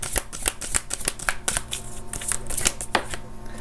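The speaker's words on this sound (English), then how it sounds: "So we'll grab a few cards from here." Tarot cards are shuffled and drawn in a rapid run of crisp riffling slaps and flicks, close and fairly loud, with no voices.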